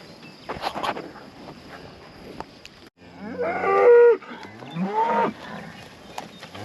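Cattle on a rotationally grazed pasture, cows with weaned calves, give two long, loud, close moos, one after the other. Fainter lowing and light wind noise sound in the background before them.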